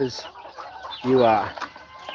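Chickens of native and other breeds cluck busily inside a farm chicken coop, with repeated close hen calls rising over a voice talking nearby.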